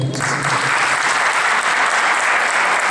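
Loud, dense applause from an audience at a cultural event, sustained and even throughout, with a short voice just at the start.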